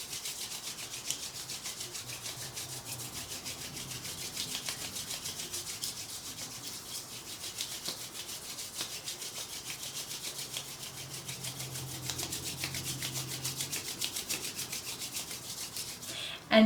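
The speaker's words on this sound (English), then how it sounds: "we can rub our hands together" Two hands rubbing together make a steady, close, continuous swishing friction sound that lasts throughout with only small variations and no speech.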